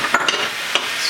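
Vegetables sizzle and fry in a hot wok as sauce is added and stirred, with a few sharp utensil clicks and scrapes over steady frying hiss.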